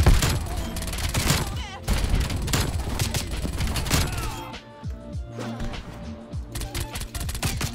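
SMG gunfire in the video game Call of Duty Modern Warfare, with loud rapid bursts and fusillades close up in quick clusters and some heavy thuds between them.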